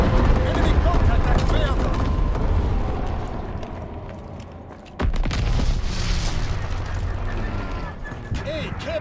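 Mortar rounds and bombing-run explosions from Call of Duty WW2 roll in as a dense, loud barrage of booms and rumbling blasts. A brief lull comes near the middle before another heavy hit.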